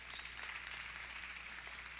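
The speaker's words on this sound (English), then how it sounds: "Give yourselves a big hand clap." A church congregation dressed in white claps hands together during a Pentecost Sunday service, a steady wash of applause at low level with no clear talk over it.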